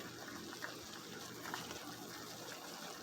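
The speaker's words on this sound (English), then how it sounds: "I'm going to fill it with water and let that boil down" Water pours steadily into a cooking pot holding chicken bouillon, a continuous rushing, gushing stream that stays close and even for about three seconds, with no talking.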